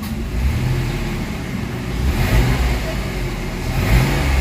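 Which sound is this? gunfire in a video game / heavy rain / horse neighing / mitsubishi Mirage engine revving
mitsubishi Mirage engine revving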